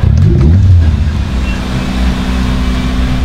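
A manual-transmission car being push-started: a loud, steady low engine rumble fills the scene from start to finish, with a slightly rougher surge in the first second before settling into an even run.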